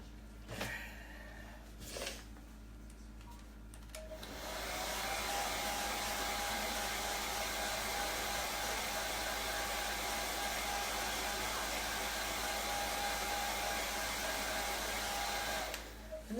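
A hair dryer on its lowest setting blows steadily up close to dry white chalk paste spread over a small transfer, a constant whooshing hum after a few soft handling sounds.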